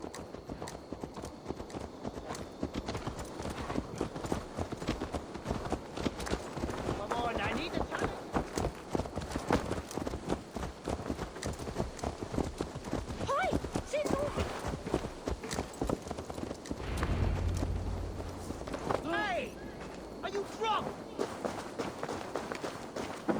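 Horse hooves clip-clopping in a steady rhythm for a long stretch in the video game Assassin's Creed Valhalla, mixed with faint background noise and a brief low thump near the end.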